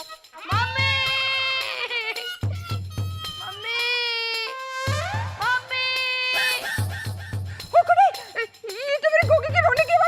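A child cries in loud, drawn-out wails that rise and fall in repeated bursts, broken by short pauses, over a soft low thumping, in a Hindi TV comedy scene.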